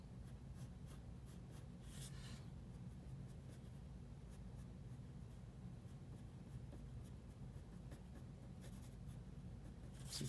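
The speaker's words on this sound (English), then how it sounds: "some light pencil marks" Pencil making light strokes on paper while sketching an oak leaf, a quiet steady scratching with a few brief louder swipes, close and alone.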